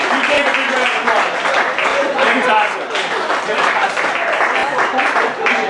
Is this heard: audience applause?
yes